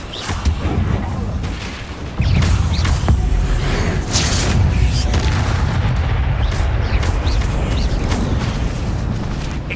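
Spells being cast in the video game Hogwarts Legacy, a string of booming blasts and crackling bursts over continuous rumbling game noise, with a voice speaking at times.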